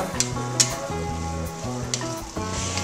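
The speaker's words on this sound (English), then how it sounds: "So now's a good time to add in our garlic. And then we'll just stir that around" Garlic sizzles with vegetables in a pot for a bisque, a steady close frying crackle broken by a few sharp scrapes and clinks of stirring.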